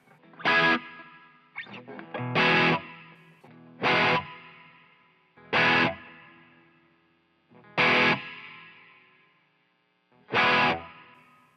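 Six distorted guitar chords through a Fender Tone Master Pro plate reverb with delay bypassed, struck at a steady interval, each ringing with a spacious reverb tail and no repeating echoes.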